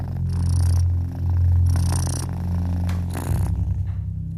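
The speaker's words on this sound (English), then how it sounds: "The loud purring in Magpie's ear lulls her to sleep in a matter of minutes" Loud, close purring with a steady rumbling rhythm, broken by a few brief rustles and soft bumps.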